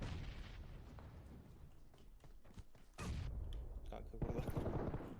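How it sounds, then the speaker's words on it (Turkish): A grenade goes off in PUBG Mobile, a loud booming blast at about three seconds with more bursts following, set among gunfire-like cracks and game noise, with a player talking faintly underneath. "Bomba çektim ona"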